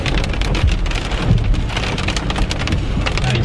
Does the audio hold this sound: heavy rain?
yes